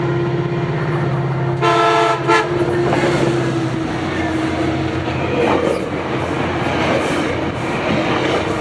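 A northbound FrontRunner commuter train on the Salt Lake Subdivision sounds a short, loud horn blast and then rushes past close by, its rumble and rattling wheels filling the rest of the recording.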